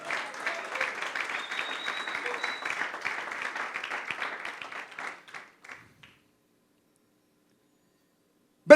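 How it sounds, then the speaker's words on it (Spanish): A church congregation claps for the King during a worship service, a steady patter of many hands for about five seconds that thins out into a few last claps and then stops. "¿Cuántos le dan un fuerte aplauso al Rey?"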